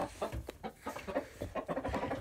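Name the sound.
chicken clucking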